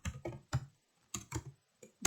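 Quick bursts of keyboard typing, a few clustered key clicks separated by short pauses, close and fairly quiet.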